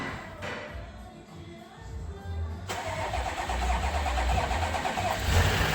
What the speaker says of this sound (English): first start after timing chain replacement with pipe fuel system